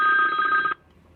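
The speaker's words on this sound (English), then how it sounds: "we got a phone call right here" A telephone rings loudly during a live talk show, one steady electronic ring that cuts off abruptly partway through, leaving near silence.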